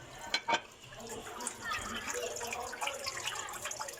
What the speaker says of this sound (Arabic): ودابا ها انت غنزيدوا هادي يعطينا الصوت ديال الماء